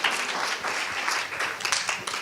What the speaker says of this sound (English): A round of applause for you guys.